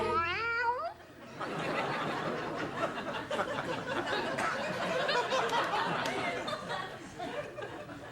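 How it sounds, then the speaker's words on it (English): A cat on a late-night TV talk show gives a few wavering meows at the start, then a studio audience laughs and chatters loudly for several seconds. "Wasn't that cat adorable?"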